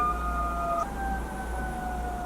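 A distant siren from street traffic outside wails faintly, its pitch sliding down once, over a low, constant background rumble.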